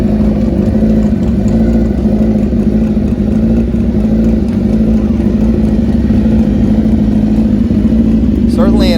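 A nitrous-fed Suzuki GSX-R 1000 drag motorcycle roars loudly and steadily at close range for the whole stretch, its engine note dense and sustained, with a brief rising sweep near the end as it races past.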